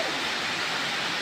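The Senah Rayang waterfall rushes in a steady, broad roar of falling water, continuous and fairly loud, heard on its own.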